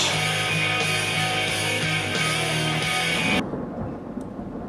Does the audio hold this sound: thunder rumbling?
yes